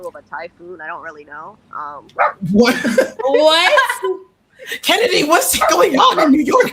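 A dog barks and yips in quick bursts, close by, while people talk over and around it.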